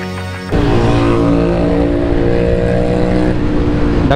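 A Ducati motorcycle passing by on a city road bursts in with a loud engine roar and holds a steady, droning whine with bright harmonic tones for several seconds, close and without speech.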